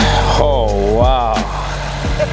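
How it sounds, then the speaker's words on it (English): A 789-horsepower Ferrari convertible supercar on a rally through the Scottish highlands: its engine drones and swells in pitch, rising and easing under loud nearby talk. "How much horsepower is in this Ferrari? 789 horsepower."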